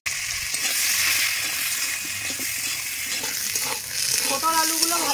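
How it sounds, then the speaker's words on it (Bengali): Potatoes and pointed gourd fry in hot oil with salt and turmeric, giving a loud, continuous hissing sizzle with crackling spatter, briefly easing before bubbling pops rise near the end. "সামান্য লবণ আর হলুদ দিয়ে পটলগুলো আর আলুগুলো ভেজে নেব।"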